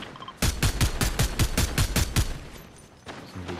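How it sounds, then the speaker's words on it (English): A rapid string of about a dozen sharp, evenly spaced gunshots in the video game Fortnite, loud and close, with a brief quieter gap and a few more shots at the end. "I think there's some shooting."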